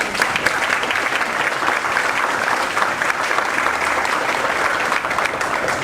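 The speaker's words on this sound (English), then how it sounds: "So why don't we give them a big round of applause?" A live audience at an LA2M speaker event gives a big round of applause, steady dense clapping at full volume for about six seconds with no voices on top.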